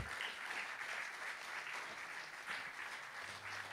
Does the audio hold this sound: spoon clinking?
no